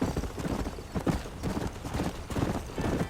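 Horse hooves clip-clop at a steady trot in Red Dead Redemption, a repeating rhythmic patter close by, with a faint hint of voices in the game soundscape.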